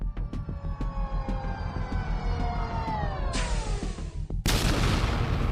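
Enemies exploding in the sci-fi shooter Star Trek: Elite Force, electronic tones sweeping down under rapid pulsing beats before a loud burst of noise takes over.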